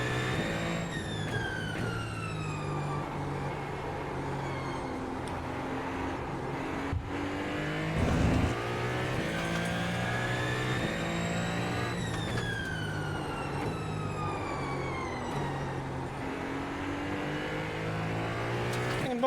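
A race car engine in a sim racing video game drones and revs continuously through gear shifts, its pitch climbing in repeated sweeps and dropping on downshifts, loud and close, with no talk.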